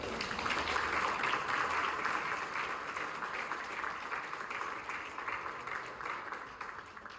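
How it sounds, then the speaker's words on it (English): Audience applause at a live software platform demo during a security mixer, a steady crowd of clapping that gradually thins and fades over several seconds. "Feels really good to get the applause after a year and a half of this."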